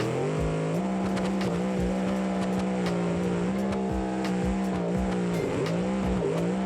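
An upgraded truck in the BeamNG driving game launches hard in first gear, its engine droning loudly and continuously with slight pitch rises and dips, plus faint scraping tire and suspension noises.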